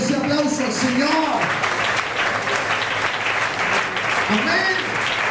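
A church congregation applauds steadily for several seconds, a dense, loud wash of clapping with a voice speaking over the start and again near the end.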